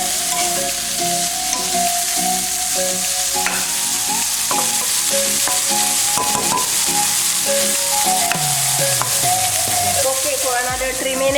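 Fried rice with organic breakfast sausage stir-fried in a hot pan, a steady loud sizzle with scraping spatula strokes and clinks of stirring running throughout.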